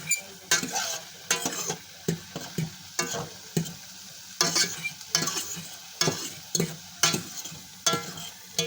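Eggless pumpkin fried rice with chili flakes and black pepper is stirred in a hot pan. Brisk, regular scraping strokes land roughly every half second over a soft, continuous sizzle, close up and with no voices.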